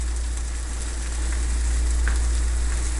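Onions sizzling in a pan as part of a liver, onion and marsala dish, a dense steady frying hiss running throughout with a low rumble underneath and no pauses.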